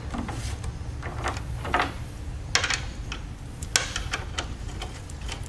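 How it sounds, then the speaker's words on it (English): Replacement bearing being tapped onto a shaft over its four bolts: light, sharp metallic taps at an irregular pace, close by, above a steady low background hum. "and tap it into place."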